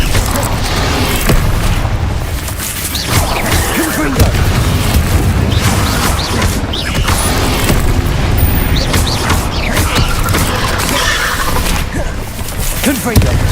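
Repeated Confringo spell blasts in Hogwarts Legacy combat, loud booming bursts and crashes layered densely over continuous battle noise, with a voice shouting spell names throughout.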